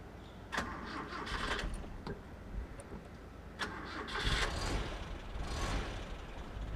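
A 1982 Toyota Corolla KE70 engine cranks and catches, a muffled broadband rumble with a few sharper bursts as it settles into a steady idle; no voices.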